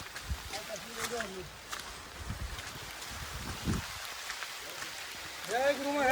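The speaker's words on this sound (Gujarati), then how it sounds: "જો વરસાદ ધૂમ મચાવી રહ્યો તારે લાઈવ વરસાદ ફૂલ ચાલુ" Heavy monsoon rain falls at a hilltop ashram, a soft, steady wash of hiss and patter that stays faint throughout, with brief voices at the start and end.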